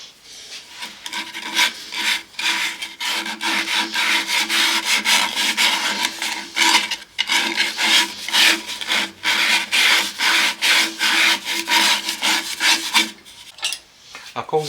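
Hand sanding and finishing of a wooden piece for a nautilus-shaped jewel box: rapid, steady rasping strokes, close and fairly loud, repeating without pause for most of the stretch before stopping near the end, with no talking.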